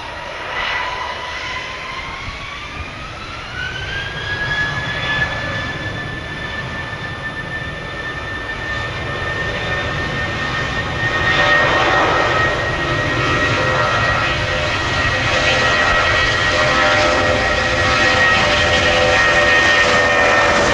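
Heavy cargo jet on approach and landing on runway 35 right at Orlando International Airport in stormy midday weather, a loud sustained engine roar with a rising whine that grows stronger toward the end.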